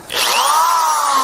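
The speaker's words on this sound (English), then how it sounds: "runs the hammer drill just fine." A corded hammer drill powered from a solar battery power station spins up and runs at a steady, loud, high-pitched whine, close and alone with no talk.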